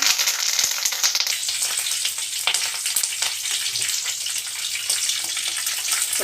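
Tempering of mustard seeds and spices frying in hot oil for a coriander gongura chutney, a steady close sizzle with faint crackles and a few sharp pops, continuous and without speech.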